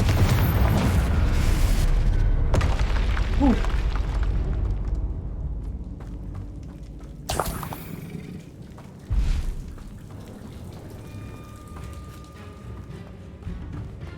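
A Confringo fire spell in Hogwarts Legacy erupts in a loud, deep boom that rumbles and slowly fades, followed by two sharper blasts a few seconds apart.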